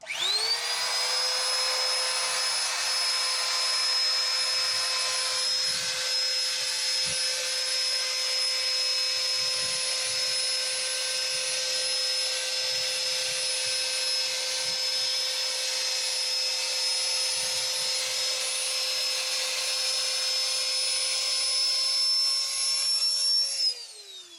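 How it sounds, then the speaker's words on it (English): A small electric pump on a boat runs steadily for about 24 seconds, deflating inflatables with a loud, even high-pitched whine and motor drone that starts and stops abruptly, with no talking. "show you how they deflate. We just have a little pump"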